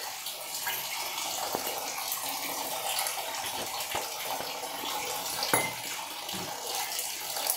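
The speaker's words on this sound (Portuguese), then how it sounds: "ela dá uma lavadinha em todos os litros com o próprio vinho de caju" Cashew wine sloshes and pours as bottles are rinsed out one after another, a steady close watery splashing with a few sharp clinks of glass, and no talking.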